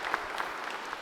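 A crowd at a software developers' evening meetup claps for the speakers in a brief, steady patter of applause, fairly quiet and from across the room.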